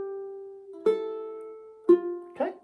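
A ukulele plays the first measure of Frère Jacques, four clear plucked notes at an even, moderate pace, each ringing out and decaying, solo and close.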